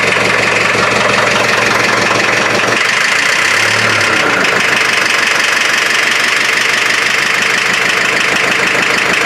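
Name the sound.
hydraulic pump kicking on in a lowrider van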